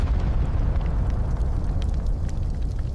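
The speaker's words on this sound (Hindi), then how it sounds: "फैक्ट्रियों में भी धमाका होने लगेगा" Factory explosions erupt in a deep, continuous roar, a dense rumble with crackling bursts that stays loud and steady throughout, with no voices.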